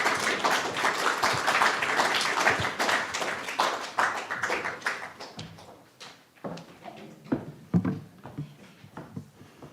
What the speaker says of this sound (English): So with a warm round of applause, make him feel welcome